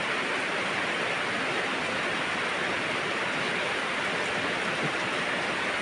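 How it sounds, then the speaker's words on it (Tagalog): Heavy rain pours down steadily, a dense, continuous roar of water with no pauses and no voices. "Grabe lakas ng ulan talaga dito."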